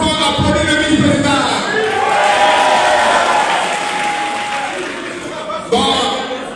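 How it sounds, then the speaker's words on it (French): An assembly audience claps and cheers for the party vice-president, a broad crowd applause that swells and then fades, mixed with voices and a loud announcing voice in the hall. "Est-ce que nous pouvons applaudir le vice-président?"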